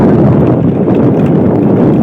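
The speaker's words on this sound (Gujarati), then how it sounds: "પવન વાય છે બહુ મસ્ત મજાનો" Steady broadband wind roaring across the microphone, loud and continuous throughout with no gaps.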